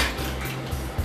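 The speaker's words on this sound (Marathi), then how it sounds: "आणि 2 ते 3 बर्फाचे तुकडे" Two or three ice cubes drop into a mixer jar holding peeled bananas and milk for a banana milkshake, giving a brief hard clatter against the jar.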